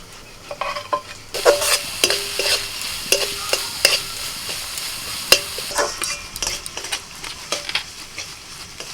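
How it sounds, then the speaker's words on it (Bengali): Onion frying with chopped ginger, garlic, green chilli and coriander leaves, a steady sizzle broken by repeated scraping and stirring strokes of a spatula against the pan, close and fairly loud, no talking. "পেঁয়াজটা একটু ভেজে নিয়ে এবার এর মধ্যে আমি দিয়ে দিচ্ছি আদা রসুন কাঁচা লঙ্কা আর ধনে পাতা কুচিটা"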